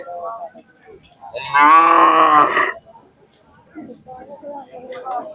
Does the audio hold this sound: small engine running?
no